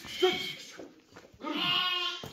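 A newborn lamb bleats twice from close by in the Pülümür mountain area, each a wavering, nasal cry with a short quiet gap between them.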